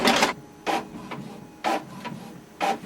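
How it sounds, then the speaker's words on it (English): An Epson XP-4100 inkjet printer running a copy job, with four short mechanical bursts of whirring and clacking separated by quieter gaps, close and fairly soft. "just press the copy button and wait for the printer to print."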